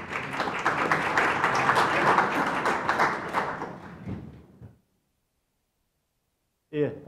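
Audience applause at a Korean architecture policy forum, loud and sustained for several seconds with dense clapping, then fading to silence before a voice begins speaking.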